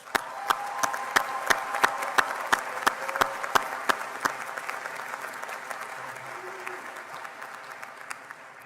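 A convocation audience applauds the Florida Southern College classes of 1974 and 1975 on their 50th graduation anniversary: a sustained crowd round of clapping with a few sharp, distinct claps up front, slowly thinning toward the end.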